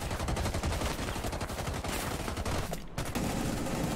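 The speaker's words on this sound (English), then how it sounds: "Keep shooting. Making noise." Dense, rapid automatic gunfire in Rainbow Six Siege rattles almost continuously at close range, loud and sustained with only a brief gap near the end before it resumes.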